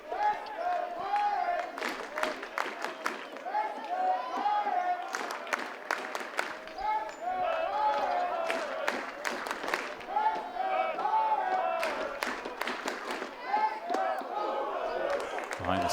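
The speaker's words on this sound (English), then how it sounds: "Behind the serenading sound of Pirate faithful cheering today." ECU Pirates baseball fans at a home game against Charlotte, cheering and clapping in a steady, lively crowd roar, with sharp claps and whoops over a commentator talking throughout.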